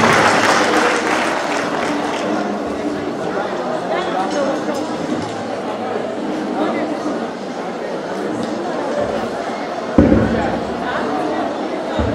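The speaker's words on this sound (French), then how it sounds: "je pense qu'elle mérite des applaudissements" Sustained clapping from an audience fills the whole stretch, steady and full, with voices murmuring underneath.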